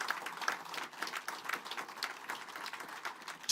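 A crowd at a Métis treaty signing claps steadily for a tribute to the Red River Métis leader, a fairly faint, even patter of applause heard from some distance.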